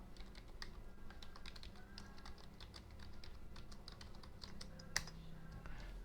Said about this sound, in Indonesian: Lalu ketikkan alamat IP yang sama.